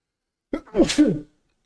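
A single loud, close human sneeze, a quick sharp intake followed by an explosive burst, set against silence.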